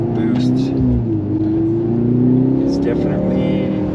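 A 2023 Mercedes-AMG C43 sedan with electric boost accelerates, its engine note rising steadily and loud throughout, with someone talking over it.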